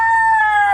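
A rooster crows once, loud and close, in a short sustained call that holds steady before breaking off, with no other sounds around it.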